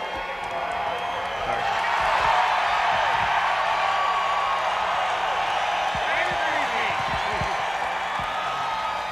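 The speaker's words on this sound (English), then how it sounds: "They stand, they scream and cheer." A race crowd at the Michigan IROC finish in 1999 screams and cheers in a sustained broad roar, with a commentator talking over it the whole time.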